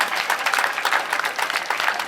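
An audience at a ceremony in Côte d'Ivoire marking record sugar production applauds, a brief burst of dense, lively clapping heard close and fairly loud.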